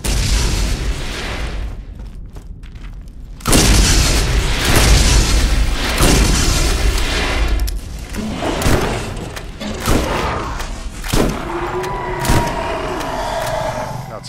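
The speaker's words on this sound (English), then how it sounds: "I love shooting that little gun on him." A small gun fired repeatedly in the video game Borderlands, loud booming shots and thuds in irregular bursts mixed with other game noise.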